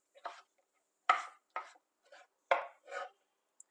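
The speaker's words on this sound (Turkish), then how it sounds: "Bunları da küp küp doğruyorum." Knife chopping three small, very red, juicy tomatoes into cubes on a cutting board: six or seven separate sharp chops with short gaps, close and fairly quiet in an otherwise silent kitchen.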